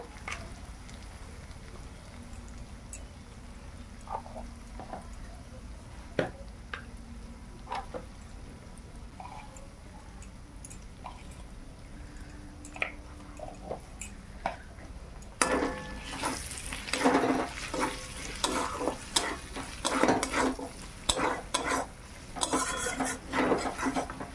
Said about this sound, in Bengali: হলুদ লঙ্কাটা ভেজে নিয়েছি